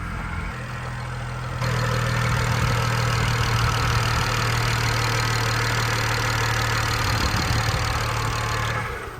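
A BMW E92 335i engine idles steadily and close, a low constant hum with a faint, rapid ticking running through it.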